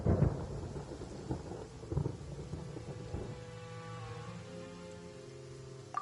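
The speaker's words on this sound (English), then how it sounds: "Paimon hears thunder!" Deep rolling thunder from a storm in the Genshin Impact video game, a loud rumbling crack at the start followed by a long low roll that fades beneath faint rain.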